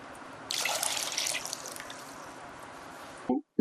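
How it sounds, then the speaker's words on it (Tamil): Water pours into a cooking pan while preparing sojji appam, a steady close trickle and splash lasting a few seconds before stopping, followed by a brief clink. "இப்போ ரெண்டு கப்பு இதுக்கு நான் தண்ணி ஊற்றுறேன்"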